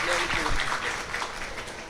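Audience applause at a live Malayalam music event, a dense steady clatter of many hands lasting the whole two seconds, with a voice talking over it.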